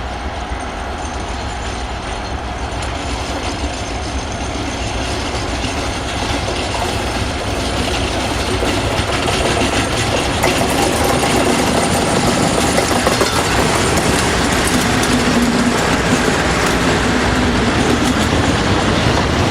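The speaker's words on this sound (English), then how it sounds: "Another new service in 2009 was a Dollensmore to Hams Hall intermodal on behalf of Norfolk Line. Hanson 56s are the rostered power here too." Class 56 diesel locomotives hauling an intermodal freight train, a loud continuous rumble of engine and rolling wagons with rhythmic rail clatter, close and steady throughout, with no voices.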